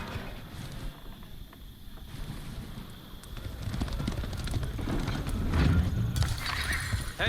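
A horse neighs and whinnies amid clip-clopping hooves and battle noise in the video game Age of Empires 4, the sound building louder toward the end over a busy in-game backdrop.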